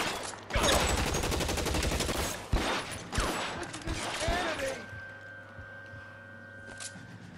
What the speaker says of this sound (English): Oh, they're shooting from over there.